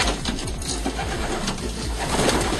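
Homing pigeons in a loft's hen section coo in soft, repeated low rolling calls that overlap one another, close and steady against a faint background hum.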